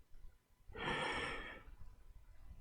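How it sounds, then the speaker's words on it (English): A single audible breath, a soft airy inhale and exhale lasting under a second, close and quiet with no one talking. "and you can hear your breathing."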